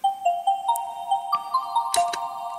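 A marimba preset without OTT compression, a short run of plucked, bell-like mallet notes in a gentle repeating pattern, fairly quiet and dry, with a couple of brighter hits.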